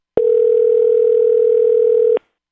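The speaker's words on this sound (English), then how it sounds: "It's ringing here, Dalton." A telephone ringing tone comes through the phone line as a single loud, steady electronic tone lasting about two seconds, clean and alone, with abrupt start and stop.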